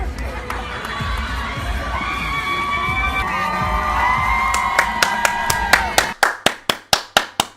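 A large crowd cheers and shouts for a young singer, rising excitement building into loud, sharp rhythmic group clapping near the end.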